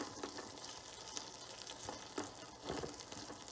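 Curry leaves frying in hot oil along with chana dal and urad dal, giving a faint, steady crackling sizzle with small pops scattered through, heard close and alone.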